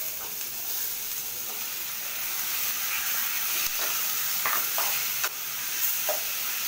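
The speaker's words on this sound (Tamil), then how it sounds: "தக்காளி நல்லா வதங்கணும்." Tomatoes sautéing in a pan with rice give a steady, fairly loud broadband sizzle throughout, with occasional short scrapes and clicks of stirring, and no talking.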